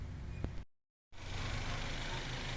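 Freshly overhauled Toyota Avanza 3SZ engine idles with a steady low rumble, cut by a brief gap of silence before the even running resumes.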